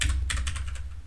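A computer keyboard clacks through a short run of close, crisp keystrokes: a couple of quick taps, a brief pause, then a steady string of evenly spaced presses. Nobody talks.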